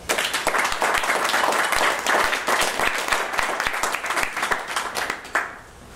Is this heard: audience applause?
yes